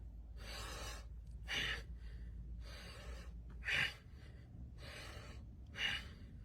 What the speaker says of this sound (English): Inhale back, exhale forward. Try to do it just through the nose.